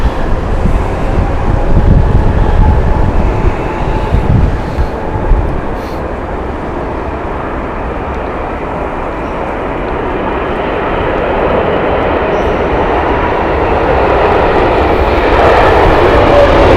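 British Airways aircraft landing at Heathrow, a loud close jet roar that rushes past and then settles into a broad, steady engine rumble trailing away.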